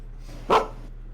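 A single short dog bark, fairly close and loud, rising once over a low steady background hum with no talking.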